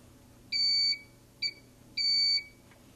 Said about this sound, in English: when I hit the red button on the handle, I will hear a series of beeps, long and short beeps